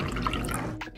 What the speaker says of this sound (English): we're gonna put in an equal amount of water